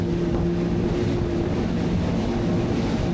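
Technohull Alpha 40 motorboat cruising at 4,000 RPM, giving a steady, continuous engine drone with rushing water and wind noise throughout, no break in level.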